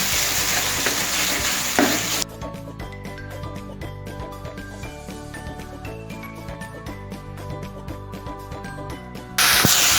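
Chicken keema frying in a pan for Tibetan-style noodles, stirred steadily through a continuous close sizzle with a dense stream of crackles and light scraping.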